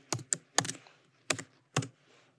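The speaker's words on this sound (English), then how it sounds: "So I'll just type it in." Computer keyboard typing up close: about five distinct key presses in uneven short bursts, each a crisp clack, with near silence between and no talk.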